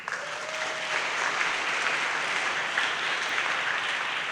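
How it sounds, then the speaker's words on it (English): A large audience at an outdoor groundbreaking ceremony applauds steadily, a dense, even wash of clapping that holds at the same level throughout. "They deserve a big round of applause too."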